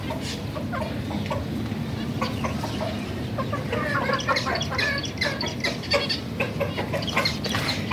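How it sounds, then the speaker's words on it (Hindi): Hen of the Aseel breed settled on a nest clucking in short, repeated bursts close by, over a steady background of farmyard ambience. "ये मेरी मुर्गी यहाँ दोबारा बैठ गई है"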